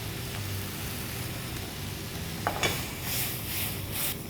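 Boneless fish pieces seasoned with chili flakes, dried herbs, salt and pepper sizzle in a hot pan, a steady soft hiss with a few brief sharper crackles and spatula touches partway through.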